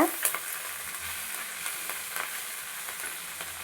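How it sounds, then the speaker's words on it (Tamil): Drumstick leaves sautéed in a pan, a steady soft sizzle with light scraping stirs and occasional small clicks throughout. "முருங்கைக்கீரையை இதில் நம்ம சேர்த்துடணும் நல்லா ஒன்றை போல் வதக்கி விட்டுருங்க"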